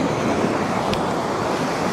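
Caspian Sea waves washing onto the shore at Lankaran, a coast fouled with mazut oil residue, heard as a loud, continuous roar of surf mixed with wind.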